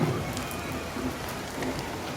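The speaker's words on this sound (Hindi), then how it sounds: "और मौसम बहुत बढ़िया, एकदम ठंडा, झमाझम बारिश होती हुई" Heavy, steady rain falls outside a Hindu temple gate near prasad stalls in cool weather. It is a continuous dense hiss of drops on surfaces with no talk.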